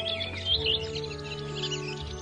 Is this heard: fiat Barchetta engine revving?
no